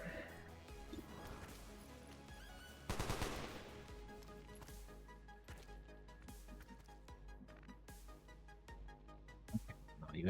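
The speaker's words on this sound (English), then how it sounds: "I guess we can just shoot you from the high ground here." Rapid gunfire bursts and impacts from a squad shooting in XCOM 2 Long War of the Chosen, a loud crackling volley followed by scattered sharp shots and thuds over a low game ambience.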